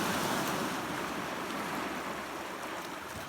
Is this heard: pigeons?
no